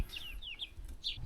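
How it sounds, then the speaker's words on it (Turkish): Faint, distant clucking and chirpy calls from chickens over a low outdoor rumble, a few short notes in quick succession, in a village in Güzelyurt. "Bu tavuklar da onların olsa gerek"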